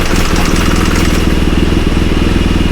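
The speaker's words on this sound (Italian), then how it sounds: "Ok, facciamo girare un po' il motore." A high-mileage BMW GS motorcycle engine idles steadily after an oil top-up, a loud, close, even mechanical rumble with a constant pulsing beat that runs unbroken until a sudden stop at the end.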